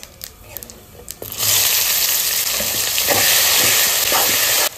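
Sliced onion hits hot oil already tempered with dried red chilli, bay leaf and cumin, bursting into a loud, steady sizzle after a quieter start that holds to the end.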